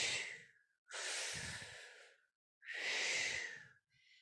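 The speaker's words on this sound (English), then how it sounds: "you can also swish in like you're sucking on a straw as you're inhaling" Slow, deliberate breathing in a yoga practice: long swishing inhales drawn through the mouth as if sucking on a straw, alternating with breathy exhales, close and quiet, two full breaths and a brief third start.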